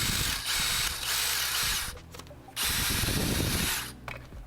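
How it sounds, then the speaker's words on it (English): A power drill with a 1/8 inch bit widens a hole in a 3D-printed part, running loud and close in two long whirring bursts separated by a brief pause. "But I'll take my 1/8 inch drill bit."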